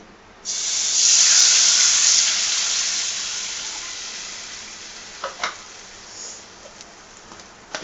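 A cup of water poured into a hot pan of fried semiya mixture erupts in a loud, close hiss that slowly fades into gentle bubbling, with a few faint clicks near the end.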